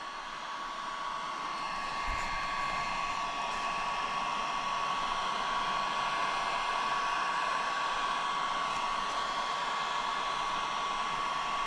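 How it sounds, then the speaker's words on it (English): A Bauer heat gun runs continuously while melting frayed ends, producing a steady, close blowing roar with a constant whining tone and no voices. "This is just a Bauer heat gun."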